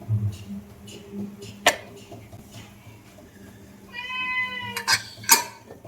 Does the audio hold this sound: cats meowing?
yes